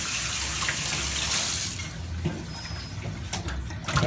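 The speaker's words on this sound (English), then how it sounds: "So before you start taking the scales off, just want to wash the fish out." A fish is rinsed under a running tap, water splashing continuously into a sink, loud at first and then thinning into broken splashes and drips, close by with no talking.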